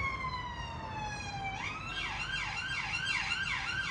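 An ambulance siren wails at moderate distance, a falling tone that shifts into rapid rising-and-falling yelps, steady and uninterrupted.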